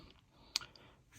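A single sharp click from the side-folding stock of a Zastava ZPAP M70 rifle as it folds over to the right, one brief crisp snap standing alone against a quiet background.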